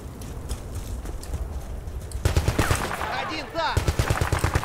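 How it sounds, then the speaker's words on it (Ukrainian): Machine gun fire in the Battlefield 2 video game, rapid continuous bursts of shots with a loud rattling rhythm amid gameplay noise, growing denser partway through. "Там кулемет, по-моєму."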